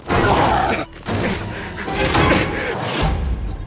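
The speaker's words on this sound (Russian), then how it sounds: "в саундтреке к моей игре часто можно услышать такие взрывные звуки" Loud explosive booms and crashing impacts from a horror game soundtrack, dense and sustained, with a short dip near the start before the heavy rumbling hits resume.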